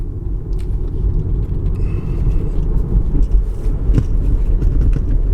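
A Tesla Model 3 pulls hard at around fifty with the accelerator pressed to the floor, a loud steady low cabin rumble and road roar holding constant without any rising surge.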